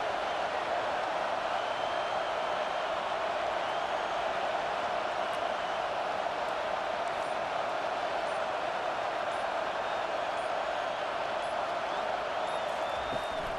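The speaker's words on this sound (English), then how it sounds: "Third down, and this crowd is tearing the lid off this place." A roaring stadium crowd on third down in a college football video game against LSU, a steady, dense wash of cheering noise that holds at an even level throughout.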